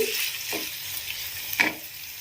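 Moong dal being stirred and fried in a pan for a ridge gourd dal fry, a soft steady sizzle with two brief stirring scrapes, one early and a louder one near the end.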